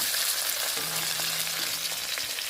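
Curry leaves and onion crackle and fry in hot coconut oil in a pan, a steady close sizzle throughout with faint stirring, no voices.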